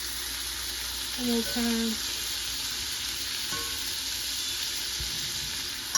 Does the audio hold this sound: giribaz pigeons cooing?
no